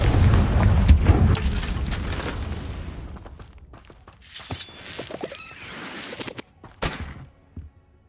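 A fiery blast spell in the Hogwarts Legacy video game, opening with a loud booming burst that rumbles and decays over a few seconds, then scattered crackles and sharp impacts that trail off.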